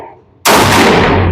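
An RIA 22 TCM firearm fires a single loud, sharp shot at a shooting range, with a brief boom that rings out and then slowly decays.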